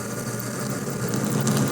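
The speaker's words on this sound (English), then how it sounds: "Starting to put a hole now on the other side." A drill bores a hole through a part of a 1965 Harley-Davidson 74ci FLH panhead motor during a rebuild in a machine shop, giving a steady, close whirring and grinding hum that holds even throughout.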